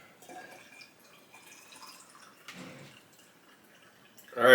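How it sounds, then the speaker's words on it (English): Fresh vegetable juice is poured into a jar, giving faint, intermittent trickling and dripping sounds, quiet and close, ending with a louder splash. "Let's go ahead and pour this into our jar here."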